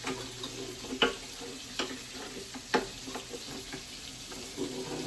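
A whisk stirs milk in a container, a soft, steady swishing with a few louder knocks and clinks against the side, close up and with no talking.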